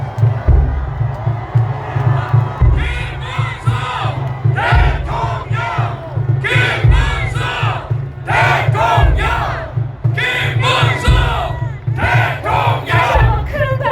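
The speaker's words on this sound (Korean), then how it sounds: "시민 여러분 큰 박수와 함성으로 우리 김문수 후보를 함께 해주십시오." A large outdoor crowd at a presidential campaign finale rally at Seoul City Hall cheers and shouts in loud rhythmic bursts, chanting in unison over a steady booming bass beat from the sound system.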